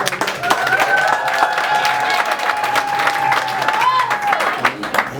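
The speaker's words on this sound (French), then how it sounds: "Applaudissez pour le monde." A wedding ceremony audience bursts into sustained applause, dense clapping from many hands that holds steady for several seconds while a voice carries on over it.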